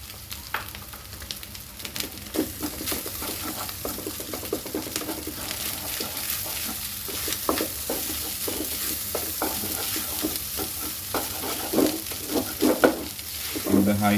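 Rice fries over high heat for saucy fried rice, a close continuous sizzle broken by frequent scraping and tossing clatter from stirring, growing busier toward the end, with no talking.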